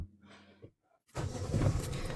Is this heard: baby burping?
no